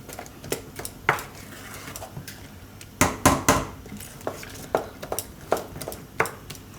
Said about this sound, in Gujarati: હવે આને મિક્સ કરી લે હું.